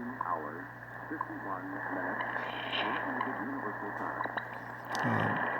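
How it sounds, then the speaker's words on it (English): Shortwave WWV time-signal broadcast on 15 MHz received through an RTL-SDR V3 dongle or SDRplay receiver, with a faint announcer's voice and a steady tone buried in hiss and fading static. "what we're hearing here is 15 megahertz WWV"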